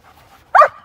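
A young German Shepherd trained as a guard dog gives one loud, sharp bark up close, and a second bark begins at the very end.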